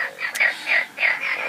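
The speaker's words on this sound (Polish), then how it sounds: "Żaby są cudowne i są już w tej chwili w każdym z naszych stawów" Frogs croak in a pond in a rhythmic series of loud, close, rasping calls, repeating about every third of a second with no other sounds.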